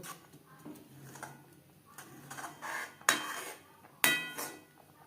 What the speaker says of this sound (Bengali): এইভাবে কড়াই চার সাইডটা পরিষ্কার করে দেব